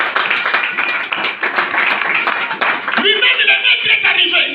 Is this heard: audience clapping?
yes